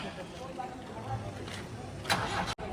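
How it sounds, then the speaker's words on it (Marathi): A vehicle engine cranks and starts during setup for a band and chariot procession, a short mechanical burst with people talking nearby. "आता शार्पीची गाडी दिली त्यांच्या हातात आता चालवायला"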